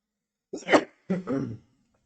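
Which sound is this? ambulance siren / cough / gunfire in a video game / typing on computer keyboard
cough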